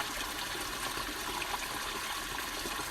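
Running water flows and trickles in a steady, even wash, close and continuous with no pauses or voices.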